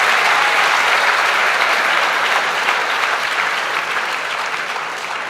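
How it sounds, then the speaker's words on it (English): A college audience at a youth Q&A event bursts into sustained applause after a question, a dense wash of many hands clapping that holds steady and fades slightly toward the end. "Every question we ask, please applaud."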